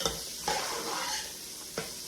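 Meatballs sauté in a pan with a steady, close sizzle, broken by three sharp scraping stirs of a utensil against the pan, with no voices.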